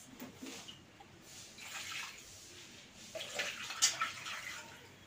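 Fish being washed in a bowl of water for cooking, with gentle sloshing and splashing that swells and fades in soft bursts, close and fairly quiet, with a few clearer drips and splashes toward the end.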